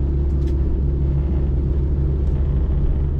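A 2014 Proton Saga 1.3 FLX facelift with an automatic gearbox runs with a loud, steady low engine rumble that stays constant without clear rises in revs.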